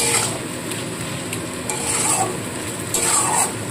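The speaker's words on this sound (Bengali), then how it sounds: "দিয়ে মশলাটাকে আবারও খুব ভালো করে কষিয়ে নেব।" Spices and onion paste being stir-fried in a pan for chicken pulao, loud close scraping strokes of a spatula against the pan over a constant sizzle, with a few brighter swishes.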